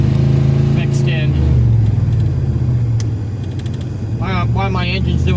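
Car engine droning and winding down in pitch as the vehicle slows on a road through Tiadaghton Village near Lock Haven, with someone talking over it throughout.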